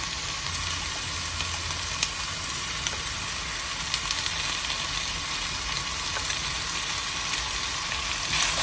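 Curry leaves, green chilies and ginger-garlic paste with small onions sizzle steadily in a hot pan for a Kerala-style crab curry, a dense continuous frying hiss with occasional faint stirring, no talking.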